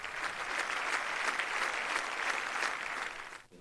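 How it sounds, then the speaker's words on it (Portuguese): French parliament members give a standing ovation to the Ukrainian president, a dense, sustained wash of clapping from a large crowd that fades out at the end. "depois de aplaudirem de pé o presidente ucraniano"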